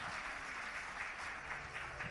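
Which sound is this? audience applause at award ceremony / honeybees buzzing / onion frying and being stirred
audience applause at award ceremony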